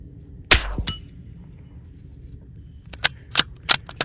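Rifle shots ring a steel target 75 yards downrange at night: one loud crack early on, then a quiet gap, then a quick cluster of four or five sharp, ringing impacts near the end. No one talks.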